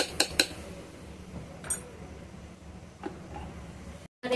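A spoon clinks against a steel bowl as rice batter for Vidarbh-style appe is mixed, a few sharp metallic taps early on and then softer scattered clinks over a quiet background.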